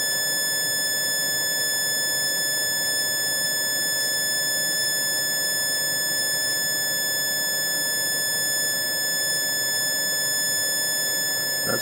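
A homemade EMJ-Meyer electrical circuit emits a constant buzzing whine made of several steady tones, with faint intermittent crackles and ticks layered on top, loud and alone throughout.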